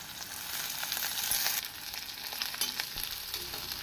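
Onions and green chillies sizzle and crackle steadily in oil with mustard seeds and curry leaves in a pan, with occasional sharper pops and a few stirring scrapes.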